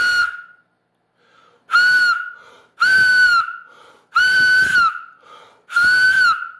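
A piece of molten agate is blown to make a shrill, piercing whistle, with five loud sustained blasts of about a second each, separated by short silent gaps.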